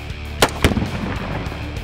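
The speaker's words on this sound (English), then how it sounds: "Add some excitement to your time at the shooting range with Sonic Boom exploding targets." A Sonic Boom exploding target detonates at a shooting range with two sharp, loud booms in quick succession, followed by a rumbling echo that trails off.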